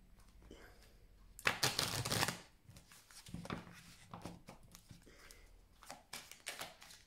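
Tarot cards being shuffled by hand: a loud, dense riffling burst early on, then softer, scattered flicks and shuffles at close range.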